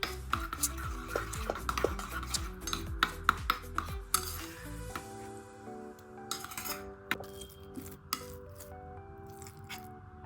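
A spoon stirs MTR instant halwa in a bowl, making repeated close clinks and scrapes against the dish over quiet background music, with no talking.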